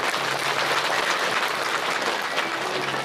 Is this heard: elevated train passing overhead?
no